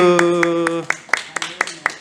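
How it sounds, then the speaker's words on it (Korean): A small group claps in a church Bible lecture on the Book of Acts: a handful of sharp, separate claps in a slow, uneven rhythm, heard at close range after a sustained tone fades. "네, 박수"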